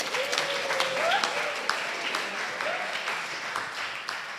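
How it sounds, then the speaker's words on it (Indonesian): A seminar audience claps for a presenter, a steady spread of applause at moderate level, with a voice calling out briefly over it. "tepuk tangan untuk Faiza."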